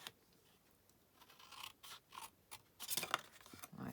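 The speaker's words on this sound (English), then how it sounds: "And then you can trim a little bit of that off." Scissors trim paper in a quiet room with short, scattered snips and crisp cutting sounds that come in irregular bursts and grow busier toward the end.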